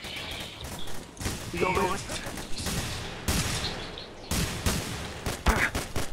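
Gunfire from several shooters in The Hidden, a multiplayer shooter game, with rapid bursts and bullets ricocheting close by, under constant talk from players.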